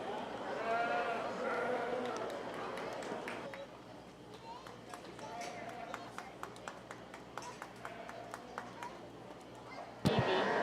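Oxford sheep bleat repeatedly at a 4-H county fair sheep show, with several calls over steady crowd murmur and people talking nearby, plus sharp knocks and a sudden loud thump near the end.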